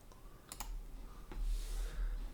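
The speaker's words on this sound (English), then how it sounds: "hit J on your keyboard to combine them" A few crisp key presses on a computer keyboard, two quick clicks close together and then a single one, faint and close with no talking.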